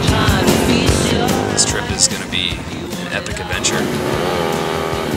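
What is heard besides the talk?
motorcycles riding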